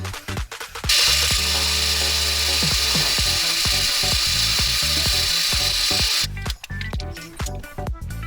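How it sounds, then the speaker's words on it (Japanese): A sewing machine runs steadily for about five seconds, stitching a long basting line 2 cm from the fabric edge for a lined, gathered handbag, with a close, even mechanical whir and brief handling clicks before and after. "そしてもう一度端から2センチのところを縫っていきます。"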